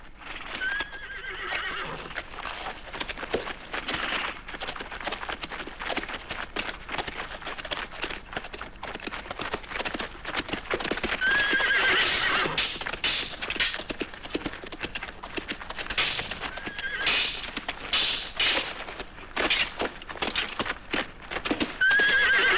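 Horses neigh and whinny again and again over a steady clatter of hooves clip-clopping on hard ground, loud and close, with no voices.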